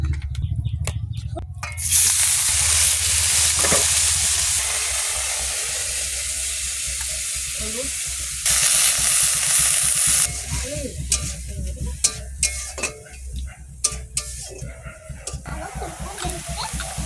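Frying hiss of banana-flower chops in oil with bursts of louder sizzling, alongside clattering and background chatter of several voices nearby.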